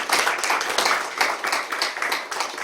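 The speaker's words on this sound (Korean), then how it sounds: "뒤에 계시면 박수 한번 보내주십시오" An audience at a lecture at the Seoul city council claps together in a brief burst of applause, with moderately loud, uneven hand claps running throughout.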